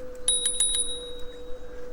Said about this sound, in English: You'll see bike comes with a wee bell